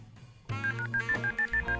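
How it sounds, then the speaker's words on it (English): A telephone number is dialed in the video game YIIK: A Post Modern RPG, a quick run of about eight short touch-tone beeps after a brief click, close and clear with no voices. "Alex dialed Vela's number."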